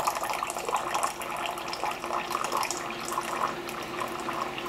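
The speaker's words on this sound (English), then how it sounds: "here comes the Cuisinart coffee coming out" A Cuisinart single-serve coffee maker brews, coffee trickling and pouring out in a steady liquid stream, close and moderately quiet, with no voices.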